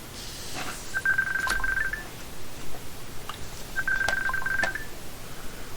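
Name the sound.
telephone ringing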